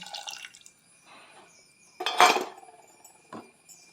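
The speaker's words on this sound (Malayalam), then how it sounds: "ഇതിലേക്ക് പുളി പിഴിഞ്ഞ് കൊടുക്കാം പിഴിഞ്ഞത് ഒഴിച്ച് കൊടുക്കാം" Squeezed tamarind water is poured into a coconut curry pot in a few short, close splashes and drips, with light clinks of the pan between them.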